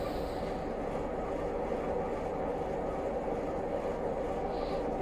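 A Class 117 diesel multiple unit coasting in Train Simulator Classic: a steady, even rumble of wheels and carriage noise with no engine surges, continuous and moderately loud throughout.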